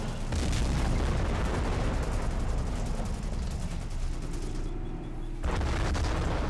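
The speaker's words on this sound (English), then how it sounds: "I killed infantry with my own artillery." Artillery and gunfire rumble from the World War II strategy game Men of War: Assault Squad, a dense wash of booming blasts and crackling shots that rolls on continuously, dipping briefly near the end before surging again.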